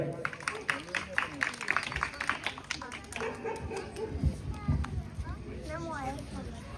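Scattered hand clapping greets a student at a Hanuman Chalisa recitation competition held by a Ganesh mandal, mixed with voices and children chattering nearby.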